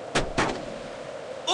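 Gunfire in the World War II shooter Brothers in Arms: Road to Hill 30: two sharp, loud broadband cracks in quick succession, followed by a low rumbling tail and a brief noise burst at the end.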